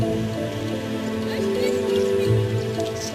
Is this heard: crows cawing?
no